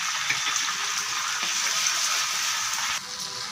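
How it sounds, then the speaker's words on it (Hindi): Onions, tomatoes and sambar masala fry in a pan, giving a steady, close hissing sizzle that runs throughout and softens slightly near the end, with no voices. "इसमें टमाटर भी ऐड कर देते हैं, और ये हमारा सांभर मसाला वो भी इसी में डाल देते हैं कि अच्छे से ये भून जाए"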